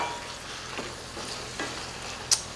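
Onions and celery stirred in a pan for rustic bread stuffing, giving a soft, steady sizzle with a few scraping stir strokes and a brief sharp clink near the end.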